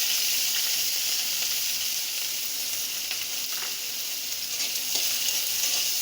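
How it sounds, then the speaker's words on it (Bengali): Garlic and green chillies fry in a little mustard oil in a kadai, giving a steady, close sizzle with faint crackles and no talking over it. "এই দেখো কড়াইতে এখন একটু অল্প সর্ষের তেল দিয়ে দেব, দিয়ে রসুন আর কাঁচা লঙ্কা যেটা আছে ওটা একটু ভেজে নেব।"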